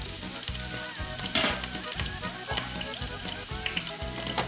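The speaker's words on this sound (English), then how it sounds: "I'm going to add those all to the pan." Poblano peppers sizzle loudly and steadily in a hot frying pan, a dense crackling fry with occasional stirring scrapes and no talk.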